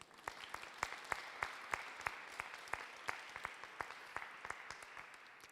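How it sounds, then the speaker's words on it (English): Audience applause for a presenter at a panel on disability, art and culture in museums, a moderate crowd clapping steadily with distinct individual claps for several seconds, no talking. "let's have a round of applause for Dirk"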